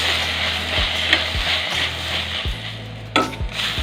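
Chopped onions and tomatoes sizzle steadily in a hot pan while a utensil stirs them, with a few sharp scrapes and knocks against the pan, close and alone without any talk.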